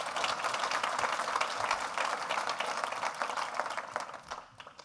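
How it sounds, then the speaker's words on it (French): An audience at a swearing-in ceremony claps in a dense, sustained round of applause that thins out and fades toward the end. "Merci de l'applaudir."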